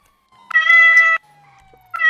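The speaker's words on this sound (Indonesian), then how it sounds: "Ah, tuh kucing siapa itu?" A cat meows inside a car, two loud, drawn-out meows close by, with a quiet gap between them.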